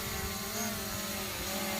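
A DJI Mavic Pro drone hovering and climbing close by, its propellers producing a steady, loud whining buzz with layered tonal hums that shift slightly as it rises.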